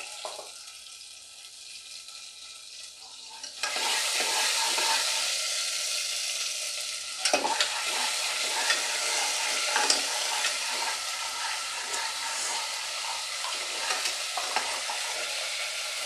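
Hot oil with curry leaves bursts into loud sizzling as chili paste goes in, a quiet lead-in jumping to a sustained crackling fry with occasional spatula scrapes throughout.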